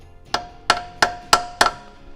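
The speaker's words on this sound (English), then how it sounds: "Now I'm going to use a center punch" Five sharp metallic taps from a center punch on metal during a Miata NB turbo install, evenly spaced and close, each ringing briefly.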